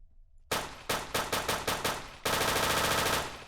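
A Scorpion vz. 61 submachine gun in ArmA 3 fires several quick, loud single shots in a rhythmic run, then a continuous rapid full-auto burst that empties the magazine in about a second.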